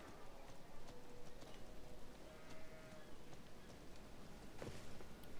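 Goats in a video game bleating and shuffling amid a busy, continuous ambient bed of hooves and background noise, fairly quiet, with no clear talk.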